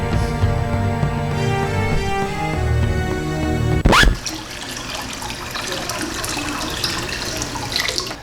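Water runs loudly into a 15-gallon brewing kettle, first with a rising tonal ring as the vessel fills, then a sudden shift to a broad, steady rushing splash after a brief clunk.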